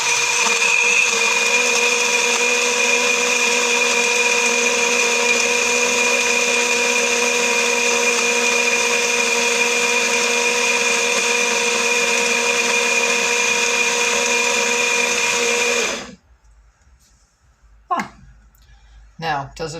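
A BlendJet 2 portable travel blender whirs steadily while blending sweet potatoes and apples, a loud continuous motor drone that runs for about sixteen seconds and then cuts off on its own, leaving near silence with a few small clicks.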